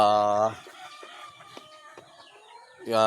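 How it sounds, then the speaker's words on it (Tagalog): A backyard hen that has just laid an egg clucks loudly in a drawn-out burst, falls to quiet scratching and small taps, then clucks again close by. "Ito po yung isa nating inahin na nangitlog."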